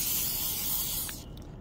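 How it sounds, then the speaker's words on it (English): Lubricant spray hisses in a steady close burst onto the moving parts of a car's convertible top, then cuts off and leaves a quieter tail. "I'm going to just start spraying all the moving parts that I can see."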